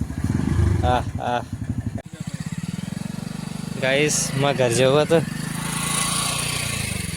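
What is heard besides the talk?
motorcycle engine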